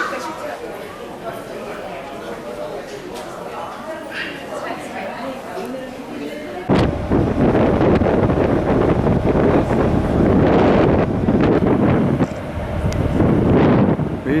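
Wind rushes past on a boat trip during a Scandinavia tour, a low buffeting hiss that jumps sharply louder halfway through and stays heavy, with a voice talking underneath at times.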